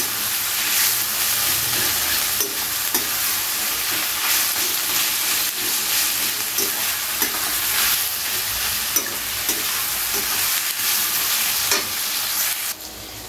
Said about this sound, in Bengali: পেঁয়াজটাকে খুব ভালো করে আমাদের আগে ভেজে নিতে হবে।